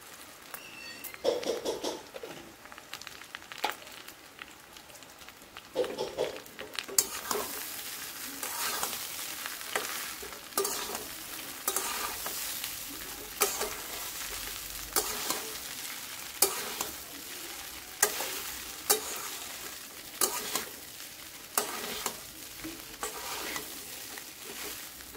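Flattened rice (chira) frying in ghee is stirred in a pan, a steady sizzle overlaid by repeated scraping stir strokes at a regular rhythm, close and fairly loud, with no one talking.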